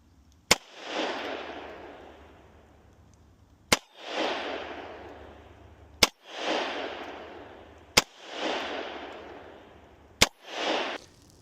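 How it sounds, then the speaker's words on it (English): Five sharp 10mm pistol shots firing Remington Golden Saber 180 gr loads, spaced roughly two seconds apart, each loud crack followed by a long rolling echo with no talking. "we're just going to show me shooting and starting to shoot that 5-shot group with just the glasses."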